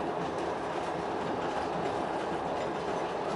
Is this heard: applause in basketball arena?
no